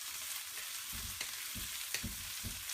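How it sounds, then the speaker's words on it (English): Okra and potato stir-frying in hot oil over a high flame: a steady close sizzle with repeated soft scraping thumps as the pieces are stirred, no voices. "it's just the warm hot oil and the okras cooking"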